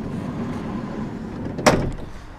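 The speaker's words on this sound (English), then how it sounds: "tall sliding entry door." Tall sliding entry door on a 2015 Roadtrek Zion camper van built on a Ram Promaster, heard as one sharp thud as it shuts after a low steady background rumble, close by with no talking.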